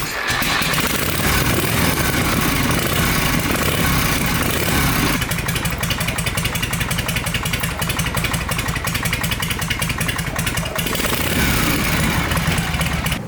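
A Shovelhead motorcycle engine with an exhaust baffle fitted cranks roughly, then catches and settles into a loud, close, steady idle with an even pulsing lope.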